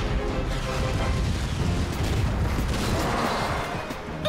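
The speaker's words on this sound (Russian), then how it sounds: "Но у него есть мощная пушка." A tank's cannon fires in an animated cartoon battle, a dense, loud, rumbling boom of blasts and roar that fills the whole stretch without a break.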